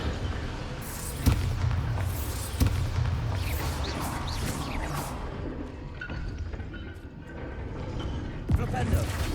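Blasting-spell explosions from Bombarda go off in the fantasy game Hogwarts Legacy. Several dull booms and impacts rise out of busy combat noise, spaced a few seconds apart, with a voice speaking at times.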